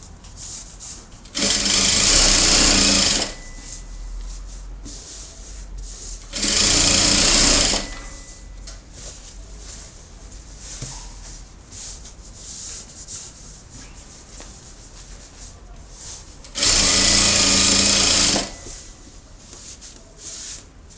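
Sewing machine topstitching the edge of a double-sided rag doll skirt, three loud whirring runs of one to two seconds each, separated by quiet pauses with faint handling noise.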